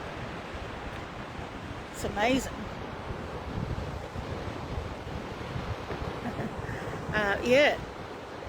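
Sea waves roll and break on the shore in a constant, wind-buffeted wash, with brief talk heard over the surf.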